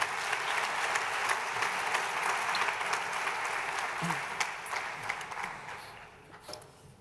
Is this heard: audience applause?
yes